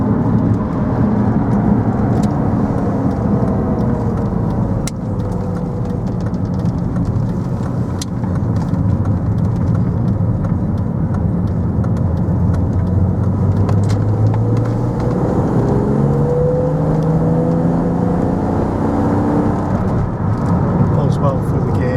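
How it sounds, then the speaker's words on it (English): A 2000 BMW Z3 M Coupe with a smooth 320 horsepower engine hums steadily while driving, a continuous close drone with rising and falling pitch as it moves through the gears, heard under someone talking. "lovely 320 brake horsepower, silky smooth engine"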